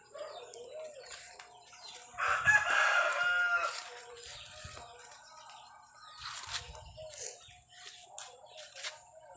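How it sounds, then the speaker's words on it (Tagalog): Roosters crow and chickens cluck in an outdoor yard, with a louder crow early on, scattered calls throughout, and faint chirps in the background. "Tignan nyo po ang mga manok ko guys, yung alaga namin guys."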